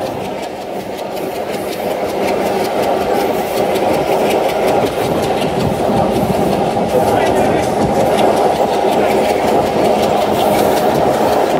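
Onboard a Bhanga commuter train as it rolls onto a Padma Bridge viaduct, a steady loud rumble of wheels and engine with faint rhythmic clatter runs the whole time, with a voice talking over it.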